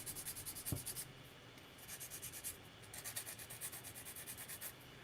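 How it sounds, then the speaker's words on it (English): Quiet, rhythmic back-and-forth rasping of sandpaper against an edge, short strokes repeating steadily with a brief pause midway. "we'll do a little bit of sanding, but I don't think we need to do a lot"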